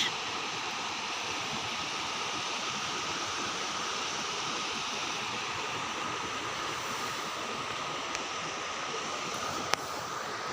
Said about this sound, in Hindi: आवाज़ भी काफ़ी बढ़िया है इस नदी के बहते हुए का आवाज़